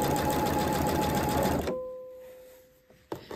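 A sewing machine stitching a ribbon decoration with invisible thread runs in a steady, close mechanical whir, then stops abruptly, leaving a faint hum and a couple of small clicks.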